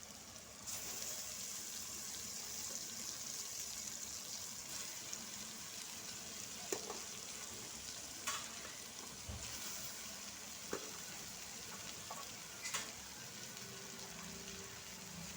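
Vegetable noodles frying in a pan street style, a steady faint hiss and sizzle throughout with a few soft clicks of utensils, no voices.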